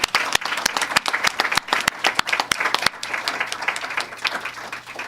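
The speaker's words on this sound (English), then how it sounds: "I would like to give a round of applause to all of them and thank them for their work." A room full of people at a press conference for the kynect program applauds the connectors present, steady dense clapping that holds for several seconds and then gradually thins out.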